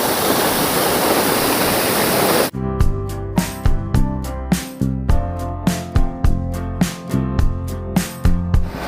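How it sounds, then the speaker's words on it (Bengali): Waterfall in North Sikkim plunging from high above with plenty of water: a loud, steady rushing roar for about two and a half seconds, then abruptly replaced by music. "একদম ওপর থেকে ওয়াটারফলসটা পড়ছে আর জল কিন্তু বেশ রয়েছে"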